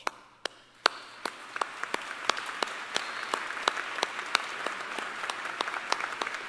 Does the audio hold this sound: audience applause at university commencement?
yes